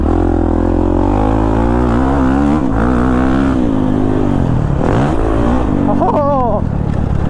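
A Kawasaki KX450 dirt bike engine revs loudly up close while riding through corners, its pitch rising and falling with throttle changes and a sharp high rev near the end, with wind roar throughout.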